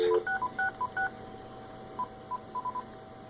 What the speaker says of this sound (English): I can pick up any of the home phones and dial 666